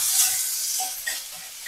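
Chopped onions are tipped into green chillies frying in a pan, making a brief, close, hissing sizzle with light stirring scrapes and no talk.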